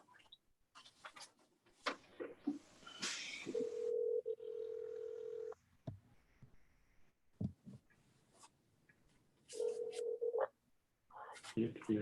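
Telephone dialing tones during a city council webinar meeting as a clerk calls a public commenter, short steady tone bursts mixed with clicks, rustles and faint room noise.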